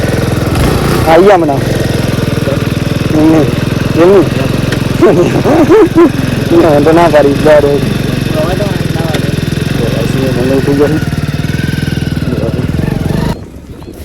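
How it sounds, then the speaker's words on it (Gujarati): A motorcycle engine runs close by at a steady idle, loud and continuous, while a person talks over it, until it cuts off near the end. "બાઈક સ્ટાર્ટ કરી દીધી."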